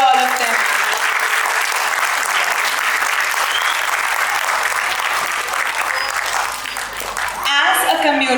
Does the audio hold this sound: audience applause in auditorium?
yes